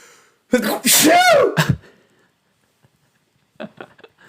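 A single loud sneeze with a sharp drawn-in breath, followed by silence and then a brief bit of quiet talk.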